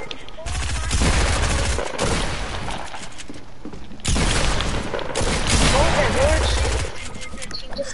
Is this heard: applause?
no